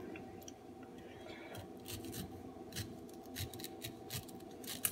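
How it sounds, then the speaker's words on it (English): A knife cutting the hard core out of a pineapple, a run of quiet rasping, scraping strokes of uneven rhythm, close but soft, with a faint steady hum behind. "He's removing the heart of the pineapple."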